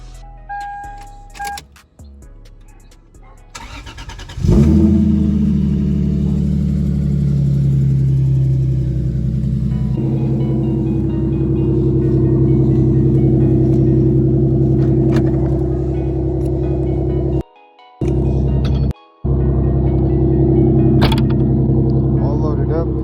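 A Lexus IS300 engine idles with a steady low rumble after starting, warming up, holding a constant drone that briefly cuts out twice near the end.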